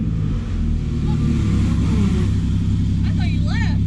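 2020 Toyota Supra with a big turbo pulling hard on a drag strip, a loud sustained engine roar close by, with voices briefly heard near the end.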